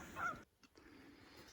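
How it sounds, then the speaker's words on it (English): Geese honking at a distance for a brief moment, a short burst of calls over quiet outdoor background, then fading. "Oh, there goes the geese."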